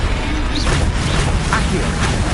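Confringo blast spell from Hogwarts Legacy, a dense roaring burst of low rumble and crackle lasting the whole moment, loud and close, with a voice over it.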